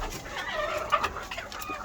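Layer hens cluck in short, uneven bursts on a poultry farm, close and fairly clear, with no voices.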